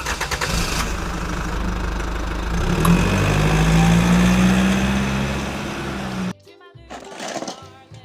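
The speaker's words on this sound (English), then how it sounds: "Taxi." A vehicle engine idles and hums steadily with a low drone that swells slightly, then cuts off abruptly, followed by brief quieter sounds.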